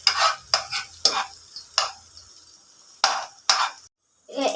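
Onions fry in a pan for egg fried rice while a spatula stirs in repeated short bursts of sizzle and scraping, separated by brief near-silent gaps, with no talking.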